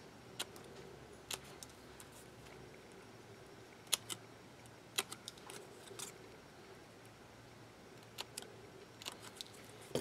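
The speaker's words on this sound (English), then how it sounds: "Then you take your scissors and cut the slits." Scissors snip slits into a paper cover for a small disc-bound keepsake journal, giving a series of sharp, quiet clicks spaced irregularly over a faint room hush, with no talking.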